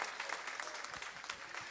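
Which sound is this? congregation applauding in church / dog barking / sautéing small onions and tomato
congregation applauding in church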